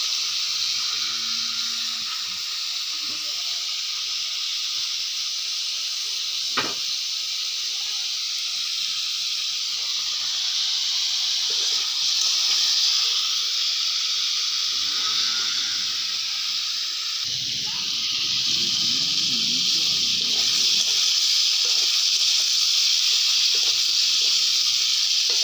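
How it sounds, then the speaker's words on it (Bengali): Potatoes and eggplant frying in hot oil give a steady, even hiss that runs unbroken throughout. Faint clatters and low rumbles sit underneath it. "লাল লাল করে ভেজে নেবো। আলু, বেগুন, বড়ি দিয়ে।"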